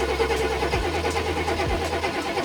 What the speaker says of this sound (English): we're gonna have Casey crank it, and we're gonna see if we get a spark.